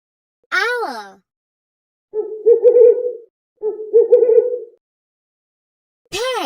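Two separate owl hoots, each a short rising-and-falling call, sound at the start and at the end. Spoken voice fills the gap between them.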